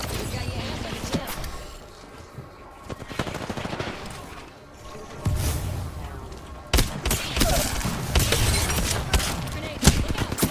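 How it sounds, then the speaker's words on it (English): Gunfire in a shooter video game: repeated bursts of rapid shots and impacts, loud and close, with heavier volleys in the second half and some voices in the mix. "Taking shots here."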